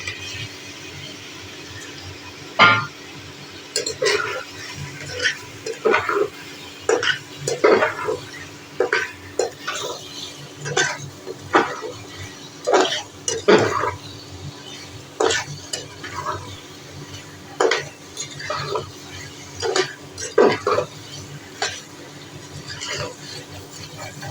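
Boiled potatoes are stirred with spices in a frying pan for a Kashmiri-style aloo dum. A spatula scrapes the pan in repeated strokes at an irregular pace for about twenty seconds, over a soft, steady sizzle.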